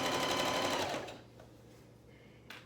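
A sewing machine runs steadily and loudly while stitching a quarter-inch seam on fabric with a back stitch, then stops and leaves a quiet hum with a few faint clicks.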